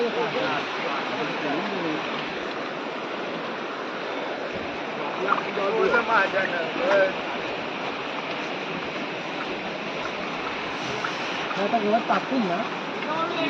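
River water rushes steadily and noisily throughout at a village river where people go to bathe, a constant broadband wash with faint voices now and then in the background.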